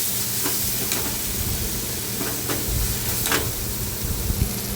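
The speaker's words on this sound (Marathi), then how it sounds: "आता याच्यामध्ये आपण जे वाटण तयार केलेलं ना ते घालायचं आहे व्यवस्थित मिक्स करून चांगलं मसाला आपला परतून घ्यायचा आहे" Ground masala paste sizzles and fries in oil for a Maharashtrian brinjal, potato and bombil curry, a steady close hiss with occasional stirring scrapes throughout, no voices.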